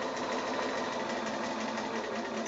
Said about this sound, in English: I'm just going to sew maybe an eighth, maybe not quite an eighth of an inch from that raw edge all the way around